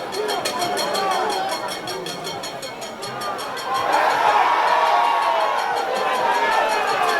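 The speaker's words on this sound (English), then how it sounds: "Crowd appealing for a penalty there" Football crowd at a Waterhouse F.C. versus Mount Pleasant F.A. match roars in appeal for a penalty, a broad sustained swell of voices that rises and grows louder midway, with commentary talk over it.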